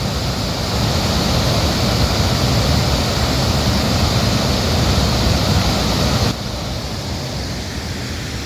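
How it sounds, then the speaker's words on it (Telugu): Bogatha Waterfall pours with a dense, constant rushing roar, loud and unbroken, dropping slightly in level near the end; no one speaks. "భోగాలత్త వాటర్ ఫాల్స్."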